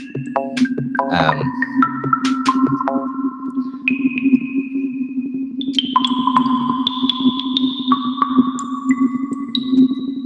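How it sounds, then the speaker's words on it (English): Eight sine waves from a modular synth phase against each other, sounding as pure sustained tones that slide and shift in pitch over a steady low drone, with no voices. "Like these eight sine waves, not stereo phasing, but phasing against each other."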